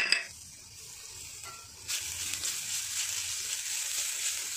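Ginger garlic paste hitting a hot pan, a steady hissing sizzle that swells after a brief quieter stretch and continues evenly, close and moderately loud, with no talking.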